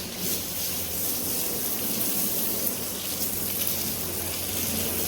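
Running water sprays and splashes steadily over a car being washed by hand, a continuous close hiss of water with no pauses.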